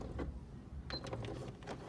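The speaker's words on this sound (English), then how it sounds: "And then just I reverse stitch to close off that." A sewing machine makes a quiet, quick mechanical whirr with brief stitching bursts while reverse stitching to close off the end of a fabric zipper bag.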